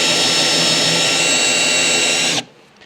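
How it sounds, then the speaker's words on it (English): A power drill whines steadily at close range while boring a fishing hole, a loud, sustained mechanical drone that cuts off abruptly near the end, leaving quiet background. "so we're gonna drill a hole right here to the outlet."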